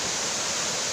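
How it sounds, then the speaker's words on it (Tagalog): A brief, steady rush of falling water from Lambingan Falls, close and even, a continuous broadband hiss with no other sounds. "ito yung pinakataas ng ano, ng Lambingan Falls"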